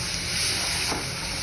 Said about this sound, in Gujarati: મિક્સ કરીને હલાવી